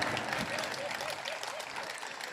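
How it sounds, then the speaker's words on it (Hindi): Audience at a Hindi poetry recital claps in a dense, continuous wash, with a faint voice threading underneath the applause. "आप खुल के ताली बजा सकते हो, अब क्या डर है आपको?"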